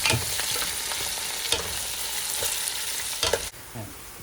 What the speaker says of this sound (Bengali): এরপরে আমরা 2টা পেঁয়াজ আগে কেটে রেখেছিলাম এবং পেঁয়াজগুলো আমরা ভাজবো।